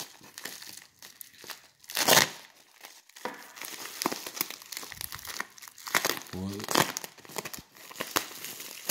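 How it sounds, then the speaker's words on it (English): A parcel of lock picking gear is cut open, with bursts of crinkling and tearing packaging close by, loudest about two seconds in, then scattered rustles and crackles. "let's cut her open."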